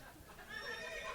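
A horse neigh sound effect played on a comedy show, a single rising whinny with a shaky, quavering tail lasting about a second, loud and alone.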